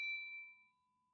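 A single bright notification bell ding rings out alone, a clear metallic chime whose tone lingers and fades within about a second.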